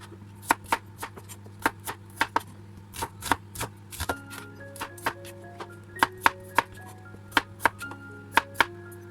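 A knife chops through German pork knuckle on a cutting board, about two dozen sharp, close chopping knocks arriving in an uneven rhythm over a steady low hum, with no talking.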